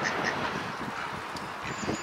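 A pair of ducks, a female and a male, quacking at feeding time by a lake, a few short nasal calls standing out at moderate distance over an outdoor background hiss.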